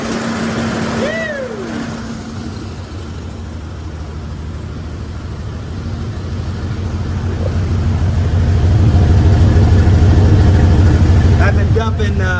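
A barn-find Toyota Land Cruiser with a carburetor, just started after priming, runs with a loud, steady, rumbling idle that swells in revs, with indistinct voices nearby.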